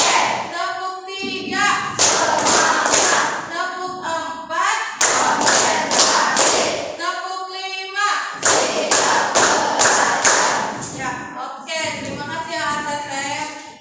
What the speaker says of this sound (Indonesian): sekarang ibu ada tepuk siap belajar. Tepuk 1. Tepuk 2. Tepuk 3. Tepuk 4.